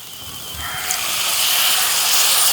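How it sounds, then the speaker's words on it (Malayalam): Water poured into hot masala curry in a pan sets off a rising hiss that starts softly and builds into a steady, loud, close sizzle lasting a couple of seconds. "ഇനി ഇതിലേക്ക് നമുക്ക് കുറച്ച് വെള്ളം ഒഴിച്ചു കൊടുക്കണേ."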